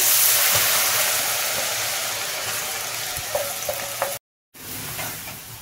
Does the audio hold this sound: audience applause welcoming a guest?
no